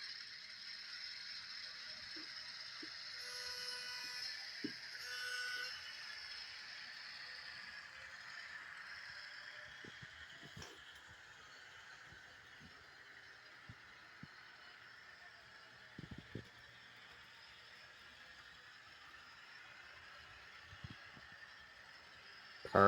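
A CP Rail Rapido E8 model locomotive running on a replacement motor, giving a quiet, steady whirring hum with light mechanical rattle and occasional faint clicks, close and even throughout.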